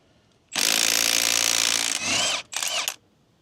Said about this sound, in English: That is one of the main advantages of having an impact gun, in my opinion.